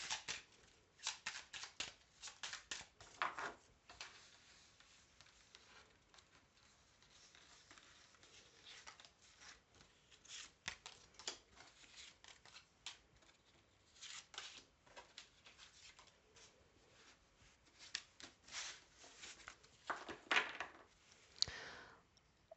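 Tarot cards being shuffled by hand: repeated quick riffling and soft slapping bursts close by, faint and continuing through the whole stretch with brief pauses between rounds.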